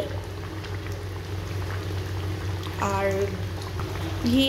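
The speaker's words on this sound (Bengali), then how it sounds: "চিংড়ি মাছটা ফুটছে" A pan of prawn malai curry bubbles steadily with a soft, continuous simmering burble, small pops rising now and then, close by and fairly quiet.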